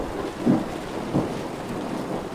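During a summer thunderstorm, thunder rolls in two low, muffled rumbles over a steady hiss of falling rain.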